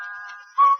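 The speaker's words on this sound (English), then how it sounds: "you'll whistle while you wash" A clear melodic whistle carries a steady tone with a brief vibrato at first, then swells into a louder, brighter held note near the end, heard alone without talk.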